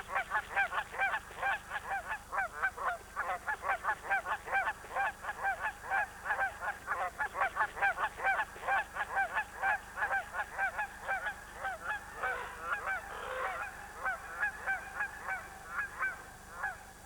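A flock of wild geese at a nesting site in late spring honks in a steady, rapid, rhythmic run of calls that grows more ragged and overlapping toward the end, with no other sounds.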